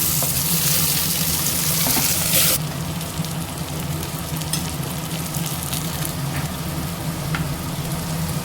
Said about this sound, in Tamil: வெங்காயம் பூண்டு நல்லா வதங்கிச்சு. இப்போ தக்காளி சேர்த்துக்கலாம்.